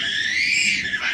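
Children shrieking in a sustained, high-pitched scream that holds steady for about a second, loud and close, with no talk over it.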